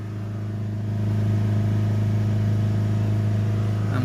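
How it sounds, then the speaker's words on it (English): A Range Rover Evoque 2.0 diesel with a restricted particulate filter held at about 3000 RPM, a steady loud droning engine note that rises slightly after the first second and then stays constant, with no talking. "We'll give it some revs, hold it back up to 3000 RPM where it was earlier"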